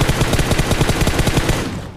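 A rapid, steady burst of machine gun fire in PUBG, loud and close, with evenly spaced rounds rattling for nearly two seconds before tapering off.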